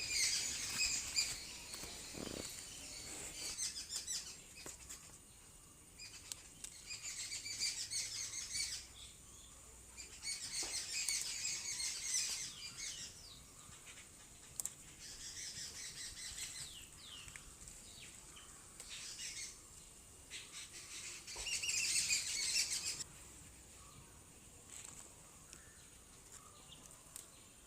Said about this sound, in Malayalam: നിങ്ങൾക്ക് കേൾക്കാമല്ലേ കിളികളുടെ ഒക്കെ സൗണ്ട്